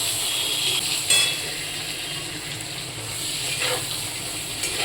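Eggplant pieces seasoned with turmeric and salt frying in a pan, a steady, soft sizzle and hiss running throughout with a few faint clinks, no voices.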